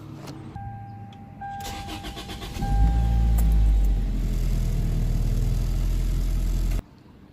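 A 1996 Toyota Corolla starts up after a radiator change, cranking briefly before the engine catches and settles into a steady, loud idle that runs until the clip cuts off.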